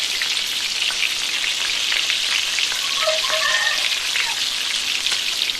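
Tomatoes roast in a pan for Telugu-style goat head curry, producing a loud, constant close-up sizzle with fine crackling and spattering throughout.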